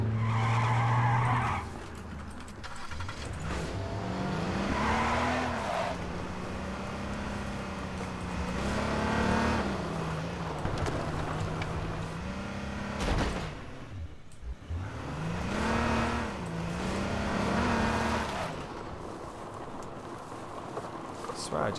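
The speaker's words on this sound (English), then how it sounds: "I just heard a car." Vehicle driven in the battle-royale game H1Z1, tires skidding and squealing with an engine revving up and down in repeated swells, continuous and fairly loud under a talking player.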